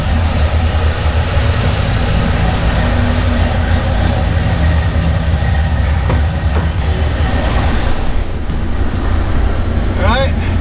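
2006 Ford Mustang GT V8 idling after a radiator replacement, a loud, steady, close rumble throughout with a constant low drone; a voice speaks over it briefly.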